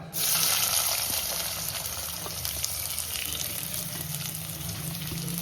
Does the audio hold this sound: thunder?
no